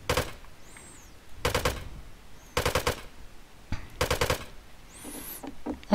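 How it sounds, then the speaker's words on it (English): An automatic gun in the survival game Rust fires in short bursts: three sharp rapid volleys of shots separated by pauses, loud and close, with faint ambient noise between them. "So let's try first giving out some bursts, and then we go full auto."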